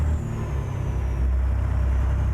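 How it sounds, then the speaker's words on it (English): Jake brake on a Mack R700 heavy-haul truck in American Truck Simulator, a deep, loud, rumbling low-revving engine drone with steady throb, continuous and close, no voices. "The Jake is nice on this one."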